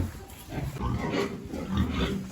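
A sow that has just farrowed piglets grunts in low, rough, repeated bursts close by in a barn, with faint background shuffling.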